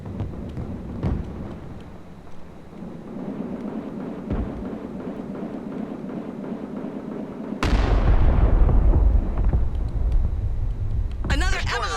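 An artillery barrage in the video game Broken Arrow booms heavily, with a sharp blast midway followed by sustained rumbling impacts and crackling, while someone talks over the fire.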